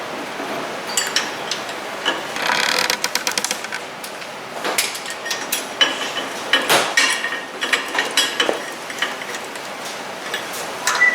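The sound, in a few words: ratchet with chrome socket on wheel nuts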